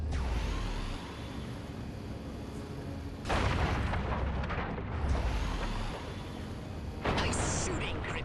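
Flying saucer weapon fire in the Destroy All Humans remake: heavy booming blasts and rumbling explosions arriving in a few surges over steady background noise, fairly distant and muffled.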